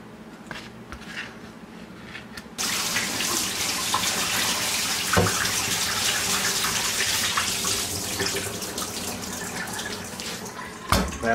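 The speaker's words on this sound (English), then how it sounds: "I'm just going to throw these in the colander, and they're just going to get a quick rinse" Morel mushrooms get a quick rinse in a colander under a kitchen tap, a steady close hiss of running water starting abruptly and pouring continuously with faint splashing against the mushrooms.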